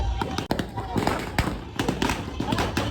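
Firecrackers go off during a Ganesh Chaturthi celebration in a rapid string of sharp, close, loud bangs and crackles, with people's voices mixed in.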